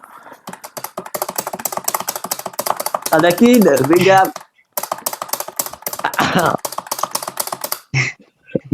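Hard, rapid typing on a computer keyboard during a Minecraft session, dense clacking keystrokes running throughout, with a short burst of talk in the middle and near the end.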